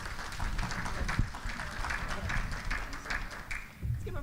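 An audience at an investment managers forum applauds with a steady patter of many hands clapping, moderately faint and somewhat distant, with a voice speaking over it.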